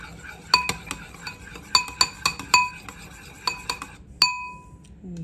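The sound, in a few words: stirring coconut milk into chicken salad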